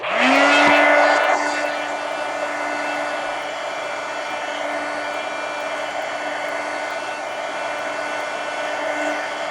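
A hair dryer starts up with a rising whine and then blows steadily and close, drying wet coloring on a page in a bicycle-themed coloring book.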